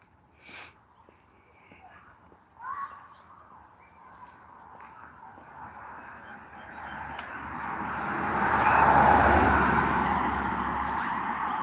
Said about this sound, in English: Ooh, somebody got them a brand new car.